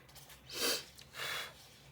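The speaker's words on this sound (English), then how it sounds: "Sorry, excuse my sniffles." Two sharp nasal sniffs, one after the other, close and clear, with a short pause between them.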